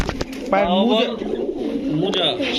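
Fancy pigeons at a pigeon sale cooing close by, a throaty rolling coo repeated over faint background chatter.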